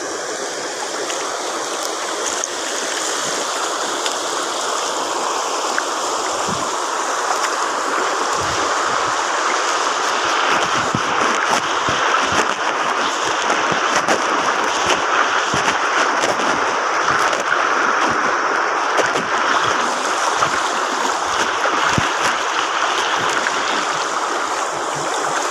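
Floodwater from a swollen river rushes behind a house after Typhoon Wilma, a loud, unbroken roaring wash that holds steady throughout with no talking.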